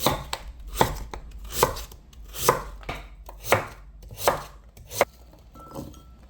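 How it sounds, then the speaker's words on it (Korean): A knife chops through radish on a cutting board for a beef yukgaejang soup, with steady, evenly spaced sharp strikes about every 0.8 seconds, close and clear with no talking. "이제 무 썰을게요."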